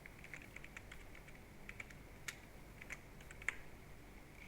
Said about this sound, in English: we're going to type it back exactly as we have it here.